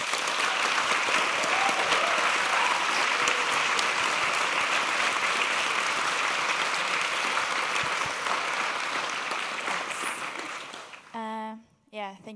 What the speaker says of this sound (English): Give them a warm applause.